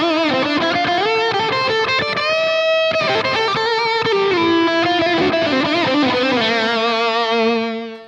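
An electric guitar runs through an ENO Music AD-6 analog delay pedal, playing a continuous distorted melodic line with echoing repeats that trail off and fade at the end, loud and with no talking.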